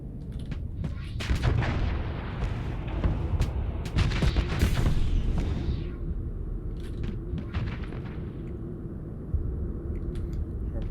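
Weapons fire on an enemy ship in the space combat game Starsector, a dense run of booming shots and rumbling blasts that stays loud for about six seconds, then thins to scattered hits over a lingering low rumble.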